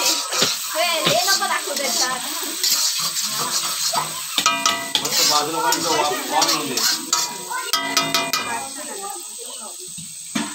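A spicy tempering sizzles in butter in a pan for an egg dish, a continuous frying hiss with scraping and clinking of utensils, heard under ongoing conversation between people nearby.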